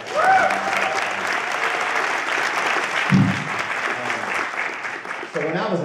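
Audience at a Smithsonian day-of-remembrance event at the National Museum of American History giving sustained applause, dense clapping with a few cheers throughout, close and loud.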